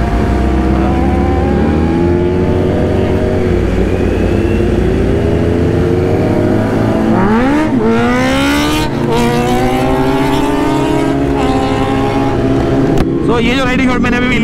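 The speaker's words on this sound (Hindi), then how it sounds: "मायूक की बाइक है" A motorcycle ridden past at close range, its engine rising and falling in pitch as it revs and accelerates, loud and continuous over steady road and wind noise.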